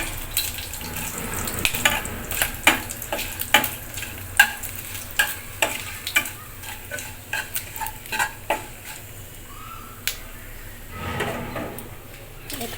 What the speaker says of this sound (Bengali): ফোড়নটা একটু ভালো করে নেড়ে চেড়ে